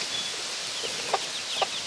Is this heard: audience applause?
no